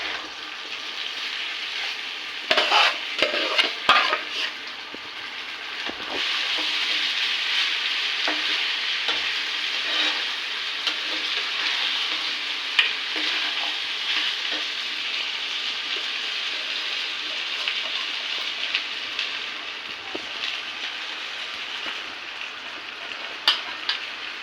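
Turmeric-coated Gobindobhog rice fries in ghee with a soft, continuous sizzle. A few sharp clicks of a spoon come early on, then occasional scrapes as it is stirred.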